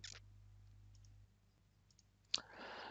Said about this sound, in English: So I will just click over here.